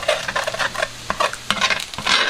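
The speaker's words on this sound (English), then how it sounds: "I'm just going to kind of scramble these off to the side a little bit." Eggs being scrambled in a hot pan beside chicken fried rice, a utensil scraping and stirring in irregular strokes over a soft sizzle, close and fairly loud, no talking.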